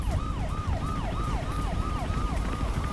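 A police siren in the video game Mirror's Edge wails in a fast, repeating rise-and-fall pattern, steady and continuous over a dense rumbling background.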